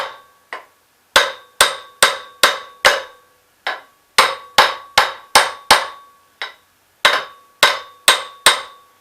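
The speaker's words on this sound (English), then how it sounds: "Once I get it started over the back keyway, I can use a socket to drive it on." Metal-on-metal hammer blows drive an input gear onto a shaft over its keyway with a socket during repair of a 1967 Gravely 430 tractor, loud ringing strikes in quick groups of several with short pauses between them.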